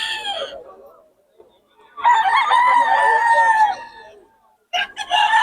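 A Pumpkin Hatch gamefowl rooster with a Bacolod leg band crows loudly and close by. One long crow is bracketed by shorter bursts of clucking and crowing with brief pauses between them.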